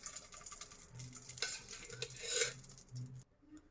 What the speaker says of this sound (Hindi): मैंने एक कढ़ाई ली है, उसके बाद अब मैं इसमें घी डालूंगी।